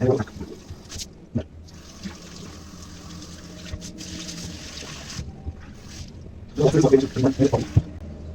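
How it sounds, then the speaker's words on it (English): Running water splashes steadily from a tap onto a sneaker being rinsed, with a burst of heavier spattering and rubbing near the end. "Now, you just have to put it under water."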